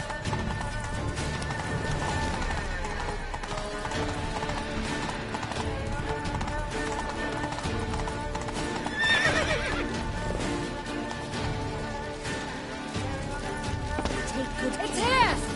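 Roach, a horse in The Witcher 3, gallops with steady clip-clop hoofbeats and gives a loud neigh near the middle, all over dense game music and ambience, with a second whinny near the end.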